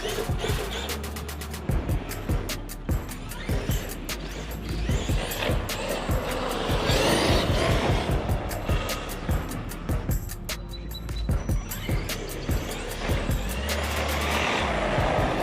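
A 1/5-scale Arrma Outcast 8S RC car with upgrades whines and buzzes as it drives around a block, its electric motor surging and fading in repeated bursts amid clicks and scrapes, fairly close and steady throughout.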